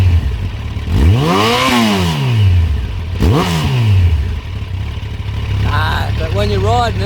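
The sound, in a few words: Yamaha FZ1n motorcycle engine revving and exhaust burble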